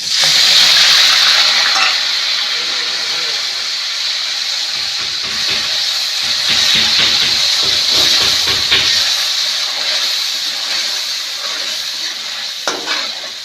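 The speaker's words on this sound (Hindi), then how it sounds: "हमको सभी मसालों को हमको अच्छी तरह भूनना है जब तक हमारा प्याज गुलाबी नहीं हो जाता" Chopped onion, ginger, garlic and green chili fry with spices in a pan for a spiced potato and eggplant curry, giving a loud steady hiss and sizzle with bursts of stirring and scraping, close up and without talk.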